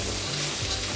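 Garlic sautéing in a pan gives a loud, dense, unbroken sizzle that stays at one level throughout.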